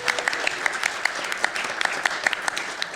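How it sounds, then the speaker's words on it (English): Live audience at a GenCon show applauding steadily, many hands clapping in a dense, sustained patter with scattered sharper claps. "Please clap right now for Steven Wilber, everybody."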